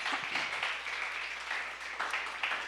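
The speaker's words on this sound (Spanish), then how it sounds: "Denle un fuerte aplauso al Señor" A church congregation applauds in a steady, dense wash of clapping that holds at an even level for the whole stretch, with no voices standing out.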